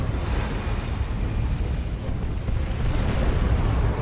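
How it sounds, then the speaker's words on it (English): Rocket run explosions from the Dawn of War 2 video game, Chaos Space Marines against Imperial Guard, roll as one dense, loud, continuous wall of booming blasts and rumble that swells slightly toward the end, with no speech. "There's a rocket run"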